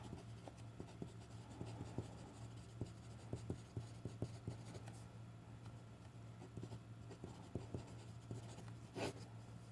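Marker or chalk scratching across a lecture board, with short repeated strokes and taps in bursts over a steady room hum, fairly close with no talking.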